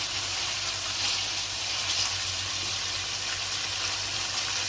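Ketchup sizzles and cooks in a hot pot as the base for Trinidadian stewed lentils, a steady, bright frying hiss running unbroken and fairly loud throughout.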